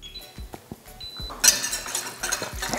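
A flour and water mixture being stirred in a pot for a sauce, with clinks and taps of a utensil against the rim, then a denser burst of scraping and stirring noise.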